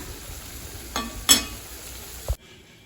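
Vegetable pakoras fry in hot oil, a steady close sizzle broken by a few brief spattering bursts and a clink before it cuts off abruptly.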